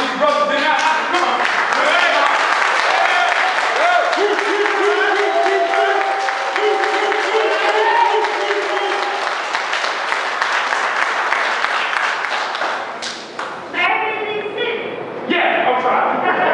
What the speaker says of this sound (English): I want y'all to give me a round of applause and a good round of applause